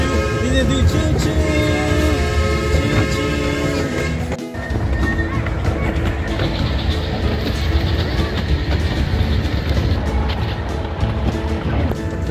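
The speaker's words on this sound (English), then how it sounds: "There's the mini train down below." A miniature steam train at Redwood Valley Railway in Tilden Park, Berkeley, California rumbles steadily past with a continuous rolling clatter and a brief sharp gap midway, mixed with busy background noise.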